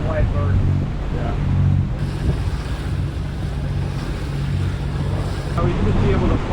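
A sailboat's engine runs while the boat is under way in open water, a low steady drone mixed with wind buffeting and wave wash, with people talking on deck.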